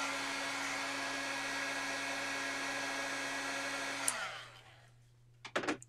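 An embossing heat tool melting embossing powder on a handmade winter card blows a steady, even whirr for about four seconds, then cuts off, followed by a few light clicks.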